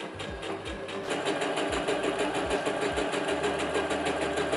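A sewing machine runs steadily, stitching two trouser legs together at the crotch seam with a dense, even mechanical whirr and faint rhythmic low thumps throughout.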